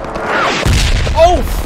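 An explosion goes off in the Hell Let Loose video game, a loud, close boom with a crashing tail and rumble over game noise.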